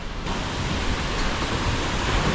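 A waterfall near the Kalimath temple on the Kedarnath route thunders with high-pressure water in a loud, constant broadband roar. The rushing stays even, with no break and no voices.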